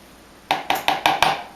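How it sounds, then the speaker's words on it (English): A metal spoon clinks against a dish five times in quick succession, sharp and close, while scooping cheesecake mixture for savory pancetta mini cheesecakes. "And then we'll take our spoon, and maybe I'll go this way so you can see. I just scoop it out"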